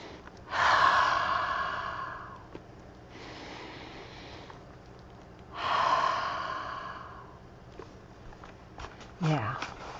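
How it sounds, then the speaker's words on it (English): A person sniffs Crayola crayons up close, with three long, strong inhalations separated by pauses and a quieter breath and a short vocal sound near the end. "We're gonna take a Crayola sniffing moment."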